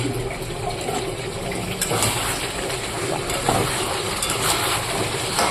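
Water running steadily into a metal basin set up for boiling, in a home kitchen during mutton cooking, a continuous close gushing splash that holds level throughout.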